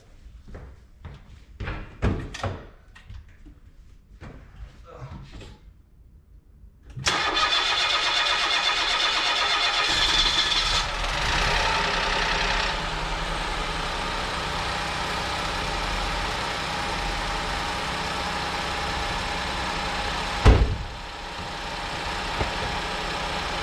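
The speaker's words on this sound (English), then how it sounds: "it's going to crank over for a little while till it builds fuel pressure" After a few clicks and clunks, a small 1-litre Ford EcoBoost car engine cranks and catches, roaring up loudly, then settles into a steady idle with a brief clunk near the end.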